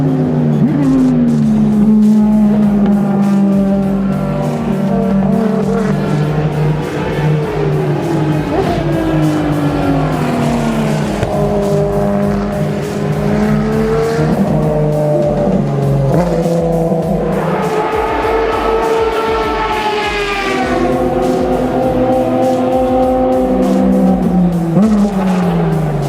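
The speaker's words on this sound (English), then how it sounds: "one of the draws of the cars from Ferrari is the beautiful sound they make" Ferrari race cars on a track, high-revving engines rising and falling through gear changes as cars pass and accelerate, loud and continuous with overlapping engine notes.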